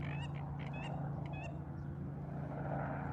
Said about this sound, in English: The ducks are over there being loud.